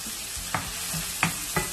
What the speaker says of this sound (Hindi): आपको अच्छी तरीके से इसको सौटे करना है ऑयल के साथ